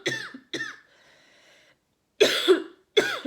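Several harsh coughs close up: two quick coughs, a pause with faint background hum, then two more forceful coughing bursts.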